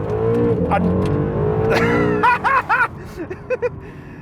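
A Honda NSX supercar engine roars under hard full-throttle acceleration in Sport Plus mode, pitch climbing steadily, then a few quick higher-pitched shifts and bursts follow, with a voice briefly heard.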